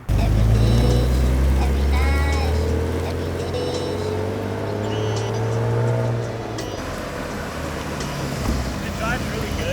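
A BMW E36 car driving, its low engine drone and road rumble steady and close throughout, easing slightly partway through, with people talking over it.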